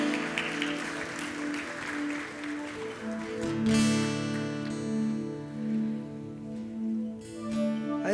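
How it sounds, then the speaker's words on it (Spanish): A church congregation claps and cheers in worship during a Spanish-language service, a dense patter of applause under sustained keyboard or organ chords that carry on and ring out after the clapping thins. "démosle un aplauso fuerte al Señor."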